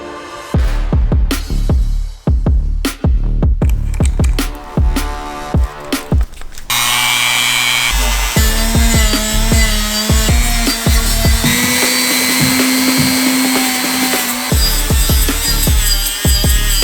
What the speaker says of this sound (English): So this is just one pass with the rough cleaning wheel.